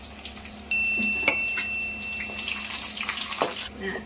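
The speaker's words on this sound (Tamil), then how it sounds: "அப்போ இந்த வரமிளகாய் போட்டுக்கணும். வரமிளகா வந்து கருகாமல் வறுத்துக்கணுங்க." Dried red chillies fry in oil in a pan for a Coimbatore-style chicken chintamani, a soft, faint sizzle with light stirring clatter, heard close but quiet.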